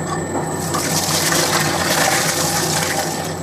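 Milk pours steadily into cookie batter made with peanuts, a continuous close gushing liquid sound that lasts the whole moment without any talk.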